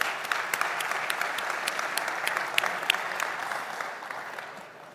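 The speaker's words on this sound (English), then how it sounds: "Let's give her a warm round of applause." An audience at a capital market forum gives warm applause, a dense steady wash of clapping with a few sharper nearby claps, gradually softening toward the end.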